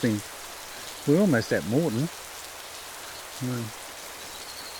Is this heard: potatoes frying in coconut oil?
no